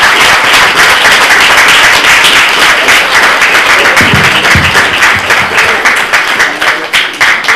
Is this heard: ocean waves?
no